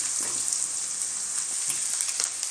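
Mushroom filling for veg momos fries in a pan toward golden, a constant bright crackling sizzle close by with faint stirring ticks throughout and no talking.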